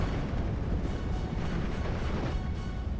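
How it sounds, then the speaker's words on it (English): Airstrikes and bombs explode in a World War II strategy game as Hurricane fighters with 20mm autocannons attack, heard as a steady, heavy rumble of blasts and booms with no break. "More and more airstrikes coming on in."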